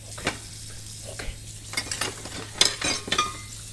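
Dishes being washed in the horror video game Emily Wants to Play Too, soft clinks and scrubbing, sloshing clatter of plates under a steady low hum, fairly quiet and sporadic.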